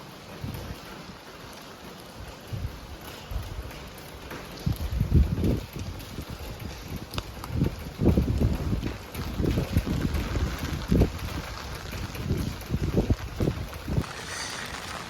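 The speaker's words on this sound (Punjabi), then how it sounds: "ਹਵਾ ਵੀ ਚੱਲਦੀ ਆ ਹਵਾ ਦੇ ਨਾਲ ਮੀਂਹ ਦੇਖੋ ਕਿੰਨਾ ਸੋਹਣਾ ਲੱਗਦਾ ਪੈਂਦਾ ਹਵਾ ਵੀ ਖਾਸੀ ਤੇਜ਼ ਚੱਲਦੀ ਆ" Strong wind gusts with rain in Italy, a rough buffeting roar against the microphone that swells and surges in bursts throughout, steady hiss of rainfall beneath, no voices.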